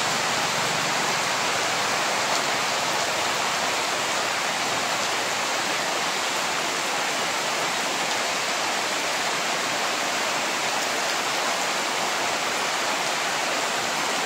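Monsoon rain pours steadily in Dapoli, a dense, even hiss that stays unbroken and fairly loud for the full stretch, with no talk.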